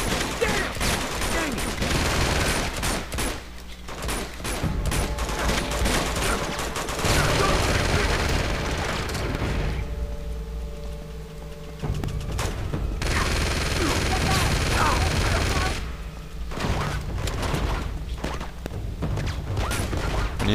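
Gunfire in the action game Uncharted 2: Among Thieves rattles in long, loud automatic bursts with thuds and mechanical clanks, broken by a couple of quieter gaps, while voices talk over parts of it.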